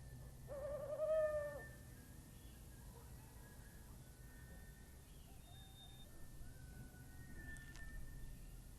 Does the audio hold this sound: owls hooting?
yes